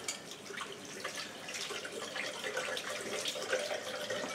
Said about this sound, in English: please make sure you turn the tap fully on and wet your hands completely.